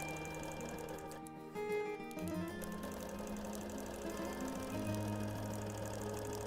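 A quilting sewing machine stitches a few threads along the seam on the green side of a custom quilt, giving a steady, close mechanical hum with shifting tonal whine and no talk.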